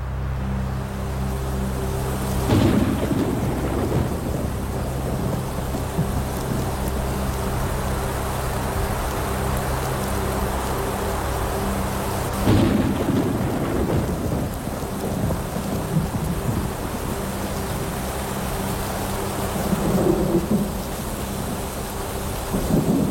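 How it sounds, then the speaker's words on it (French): An approaching thunderstorm on an African safari brings steady heavy rain and several deep rolls of thunder at intervals, loud and enveloping. "Un orage approche."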